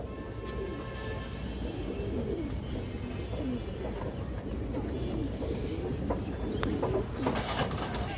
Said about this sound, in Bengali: বড় সাইজের একটা বাঘা মাদি কবুতর, পুরান লাইনের কবুতর